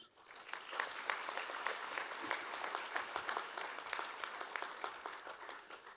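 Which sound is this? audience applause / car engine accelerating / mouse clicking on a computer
audience applause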